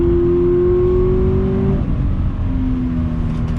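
A 2020 Toyota 86 Hakone Edition engine revs loud and close under acceleration, a steady rising drone that drops briefly at a gear change and then climbs again, with no voices.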